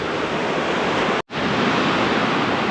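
Steady broadband roar of water pouring over the edge of Bandaje Falls on a forest trek, loud and continuous, with a brief dropout near the middle before the rushing sound resumes.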